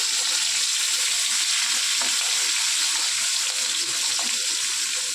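A hilsa fish head and torn green chilies fry in a pan, giving a steady, bright hiss of hot oil with a few faint pops and clicks, close and continuous, with no voices.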